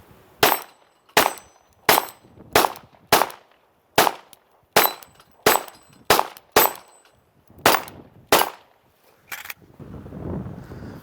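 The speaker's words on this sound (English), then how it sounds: "I've got the FN57 here. 12 rounds loaded up, ready to go. Steel down range." An FN Five-seveN pistol firing 5.7x28 handloads at steel targets produces about twelve sharp, loud cracks in a quick, uneven string, with short gaps of silence between them and a faint rustle after the last shot.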